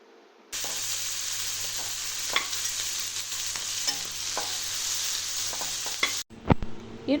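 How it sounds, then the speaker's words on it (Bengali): Small prawns dropped into hot mustard oil, sizzling loudly and steadily with crackles and spatters, then a sharp clatter as the pan is stirred near the end. "এরপর আস্তে আস্তে চিংড়ি মাছগুলো তেলের মধ্যে ছেড়ে দিতে হবে"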